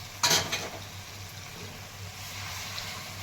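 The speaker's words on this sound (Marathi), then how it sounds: "आणि आता यामध्ये मी गरम पाणी टाकून घेते" Hot water poured into a hot pan of stuffed ridge gourd curry, giving a short sizzling burst and then a soft steady simmering hiss, heard close and faint.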